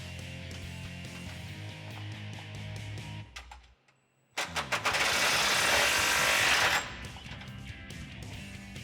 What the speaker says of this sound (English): We're going to go over to a 5/16 Allen. We're going to grab a 19mm wrench again. We're going to tighten up these 2 end bolts.